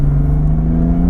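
A 2017 BMW M4 CS engine in third gear, a loud, steady droning tone with a deep rumbling undertone heard from inside the car, continuous with no break and no talking.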